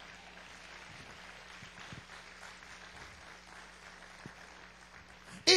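A church congregation applauds the Lord during a Spanish-language sermon, a soft, distant patter of scattered clapping with a low hum underneath, ending in a sudden loud burst.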